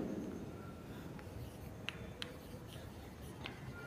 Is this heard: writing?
yes